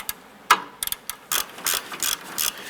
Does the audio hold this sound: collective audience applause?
no